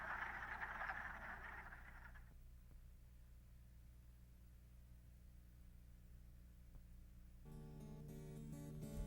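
A male wood frog's quacking breeding call at a vernal pond in early spring. A burst of raspy croaking fills the first two seconds, followed by a quiet stretch and then a sustained tonal passage.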